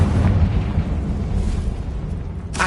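A Confringo fire spell from the Hogwarts Legacy video game explodes in a short, heavy blast, with a booming low rumble that fades, then a brief bright burst at the very end.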